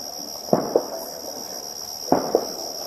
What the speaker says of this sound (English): Am I tripping, or that sounds like gunshots?